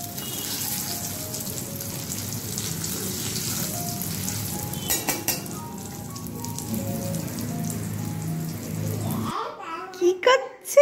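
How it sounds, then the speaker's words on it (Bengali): Fish frying in a pan makes a dense, continuous sizzle in a village home kitchen, with a child babbling over it, until the frying noise cuts away near the end. "এখানে মাছটা এখন ভাজা করছি"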